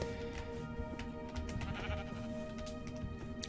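Sheep bleat in short repeated cries over a steady low drone, fairly faint and layered like game audio.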